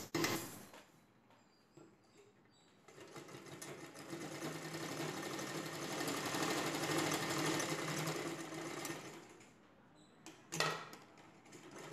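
Sewing machine stitching piping on a saree blouse, a quiet start building into a steady, close mechanical whir for several seconds, then slowing and stopping with a brief clack near the end.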